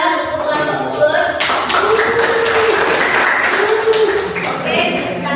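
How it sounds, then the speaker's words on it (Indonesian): A class gives a round of applause for a group's project presentation, with steady clapping and tapping that fills the room for several seconds and mixed voices beneath it. "Kita berikan aplaus untuk kelompok gugus"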